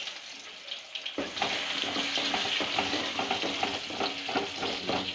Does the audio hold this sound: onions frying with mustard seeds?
yes